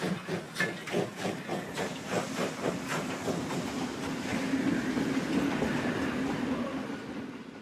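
A Romanian state railways steam locomotive chugs past with rhythmic puffs and clattering wheels, the beat quickening before giving way to a steady rolling rumble and hiss.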